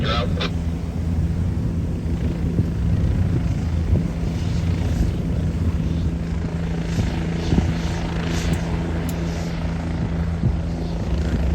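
A helicopter drones loudly and steadily nearby, its rotor and engine roar filling every moment without a break.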